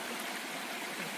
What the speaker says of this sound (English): close to those waterfalls, perhaps